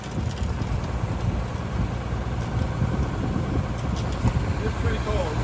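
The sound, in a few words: engine idling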